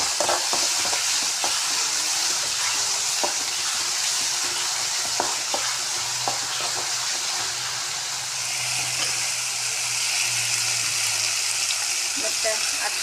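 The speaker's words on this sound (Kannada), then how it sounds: "ಮತ್ತು ಕರಿಬೇವು ಈಗ ಹಾಕೋತೀನಿ ನಾನು." Curry leaves drop into hot oil and sizzle steadily while being stirred for kanda poha, a Maharashtrian onion-and-flattened-rice dish, with a continuous bright frying hiss and scattered spoon scrapes close by.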